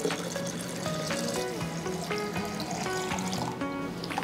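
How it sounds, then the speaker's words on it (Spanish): Water is poured into a blended coconut and rice mixture for horchata, a continuous splashing, gurgling pour that runs steadily and close by, with no talking. "Y aquí ya solo queda agregar agua."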